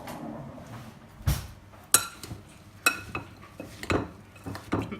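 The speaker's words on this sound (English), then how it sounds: "I'm just using a metal spoon" A metal spoon tosses granola mixture around a bowl, making irregular clinks and scraping knocks against the bowl, close and moderately loud, with no speech.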